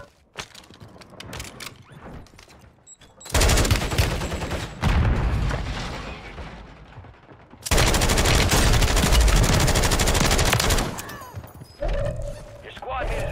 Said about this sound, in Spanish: Están disparándome.